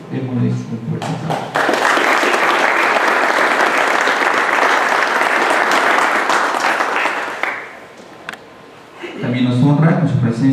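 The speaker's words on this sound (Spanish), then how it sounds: "Démosles un fuerte aplauso." Loud, sustained applause from the audience at the formal installation of a public security advisory committee, rising after brief speech, holding steady for several seconds, then fading as a voice resumes talking.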